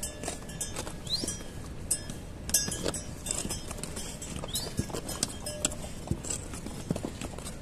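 Horse hooves clip-clop on a mountain trekking trail toward a summit, many close uneven footfalls tapping steadily over outdoor ambience with faint bird calls.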